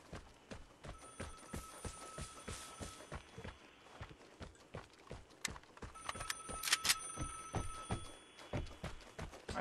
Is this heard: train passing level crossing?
no